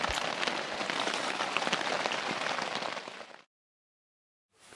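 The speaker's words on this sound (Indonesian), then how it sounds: "Harapannya mudah-mudahan hujannya berhenti." Rain falls steadily at a mountain campsite on Mount Sumbing, Wonosobo, as a dense, close, even hiss with scattered drop patter. It runs for about three and a half seconds, then cuts off abruptly into silence.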